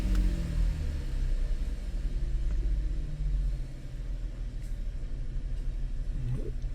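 A car engine runs under a diagnostic scan-tool check, a steady low rumble that rises slightly as the throttle is blipped and then settles, heard fairly close with no talk over it.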